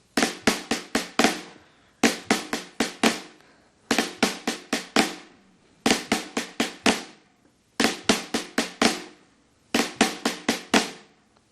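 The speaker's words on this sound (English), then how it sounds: "you can alternate the Flamacue and play a left-hand flam, right-hand accent, left, right, and another left-hand flam." Crisp snare strokes play the flamacue rudiment in repeated five-note groups, each phrase separated by a short pause, steady and close.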